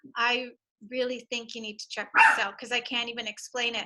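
A pet dog named Penny barks and yips briefly in the middle, close by, over a continuous stretch of speech.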